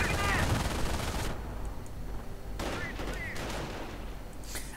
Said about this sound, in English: Rifle here getting absolutely suppressed by the MG42.